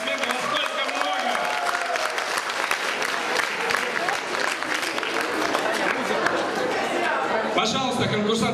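Thin applause from a beauty pageant audience, a continuous patter of scattered clapping with crowd chatter and a host's voice running underneath.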